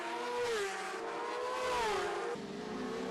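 Superbikes race past on the Cookstown 100 road circuit, their engines rising and falling in pitch as they sweep through and away, loud and continuous with no voices.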